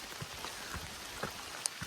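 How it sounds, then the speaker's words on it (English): Rain falls during a hike on a foothills trail, quiet scattered drops tapping on nearby surfaces against a soft, steady background patter. "it's still raining"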